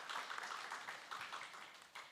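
Audience applause at a symposium on AI and digital social transformation, a steady dense patter of many hands clapping through the whole moment at moderate level, with no voices over it.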